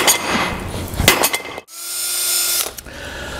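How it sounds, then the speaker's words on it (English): Several sharp metallic strikes ring out close by as wheel studs are hammered out of a 1947-59 Chevy/GMC truck hub, followed by a brief pause and a sustained metallic whine with clinking. "you can just hammer these out"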